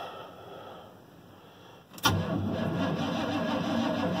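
A car engine cold-starting on a cold winter day: quiet background, then a sharp starter crank that catches at once into a loud, steady idle held close to the microphone, with no voices.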